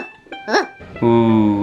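A toy dog from a surprise egg gives a short, bright bark-like yelp followed by a sustained tonal whine, close and fairly loud.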